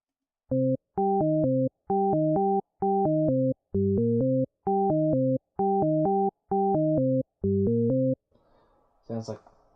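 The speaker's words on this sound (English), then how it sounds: "Sounds like it's not really much, but it's a little melody." A simple synthesized melody programmed in the FL Studio piano roll plays as nine short, evenly spaced chord-like notes with a steady rhythm, each clean and sustained, followed by a brief burst of faint noise at the end.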